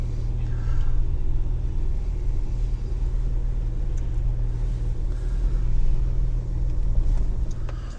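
A car that has sat unused in a garage for six months idles and creeps out under its own power, giving a loud, steady low engine rumble that swells slightly, close by with no talking.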